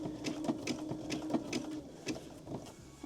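A sewing machine stitches an appliqué onto a T-shirt, running close in a fairly quiet, evenly pulsing rhythm throughout.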